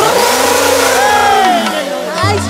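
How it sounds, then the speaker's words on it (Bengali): Revving motorcycle engine, its pitch sweeping up and down in loud, close surges through a Bengali folk opera (jatra) stage performance, with voices mixed in over it. "এটা মোটরসাইকেল।"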